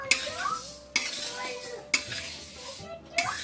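Moong dal frying in a pan is stirred steadily, a spoon scraping the bottom in four firm strokes roughly a second apart over a soft, continuous sizzle, close and clear.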